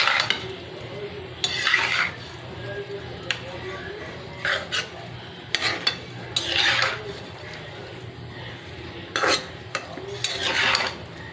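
Garlic paste, turmeric, chili and spices sauté in a pan with a soft background sizzle, broken by repeated bursts of spatula scraping and stirring against the metal, close by.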